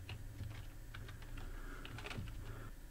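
Keys tap on a computer keyboard in a quiet room, a quick, uneven run of soft clicks close by with no one speaking.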